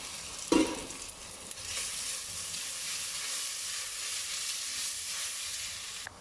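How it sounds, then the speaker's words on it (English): Ginger and garlic paste drops onto soft onions in hot oil with an opening splash, then a steady moderate sizzle and frying hiss that runs throughout. "To this, we add the ginger and garlic paste."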